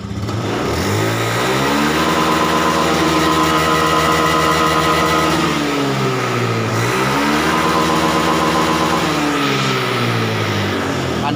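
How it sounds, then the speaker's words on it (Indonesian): Honda Scoopy scooter with a sputtering fault, its engine held at full throttle and droning loudly and steadily up close, pitch rising, dipping and climbing again. "coba kita hidupkan motor. Oke. Kita gas penuh langsung ya."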